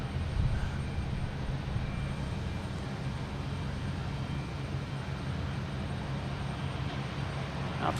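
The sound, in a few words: airliner at Boston Logan Airport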